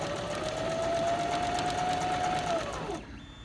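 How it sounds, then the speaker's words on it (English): Sewing machine running a zigzag test seam, a fast, steady motor whir with rapid needle chatter, close and continuous, slowing and winding down to a stop near the end. "Always do a test on your zigzag just to make sure you've got everything set the way you want it."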